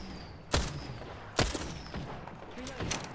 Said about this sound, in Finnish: Mua ammutaan ylhäältä.